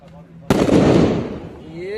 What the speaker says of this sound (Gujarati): હમણાં છેલ્લો ફટાકે ફોડી લે